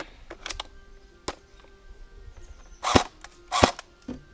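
An Umarex Tavor TAR-21 airsoft rifle fires 0.25 g BBs: several sharp snapping shots at irregular intervals, two louder ones near the end, close and with no one talking.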